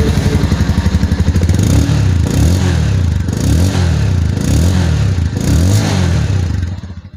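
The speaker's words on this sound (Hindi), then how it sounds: "तो आपको इसके एग्जॉस्ट का साउंड कैसा लगा" A 2023 Bajaj Avenger 160 Street motorcycle exhaust thumps and burbles loudly up close, revved repeatedly in steady surges before the engine cuts off at the end.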